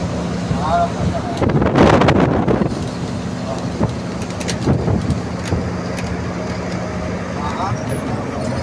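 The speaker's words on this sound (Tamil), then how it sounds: "பயங்கரமான மழை வெச்சு வெளு வெளு வெளுது" Heavy rain pours in a loud, constant wash of noise during a road trip, with wind buffeting and a voice talking briefly over it.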